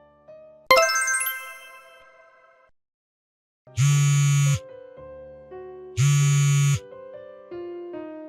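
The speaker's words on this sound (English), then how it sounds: "pick up the phone" Phone ringing in two loud, even buzzing bursts after a bright chime, with soft melodic tones between them.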